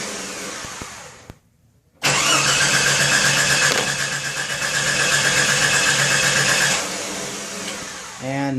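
A 1989 Jeep Cherokee with the Renix engine cranks without starting, its starter grinding loud and steady for about five seconds after a brief pause, with no catch or idle following.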